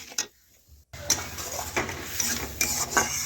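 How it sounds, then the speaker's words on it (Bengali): Tengra fish curry with mustard-cumin paste stirred in a pan, a short quiet pause followed by continuous low sizzling with repeated light scrapes and clinks of a spatula against metal. "এইভাবে দেখুন আমি নাড়াচাড়া করে বেশ কিছুক্ষণ কষে নেব"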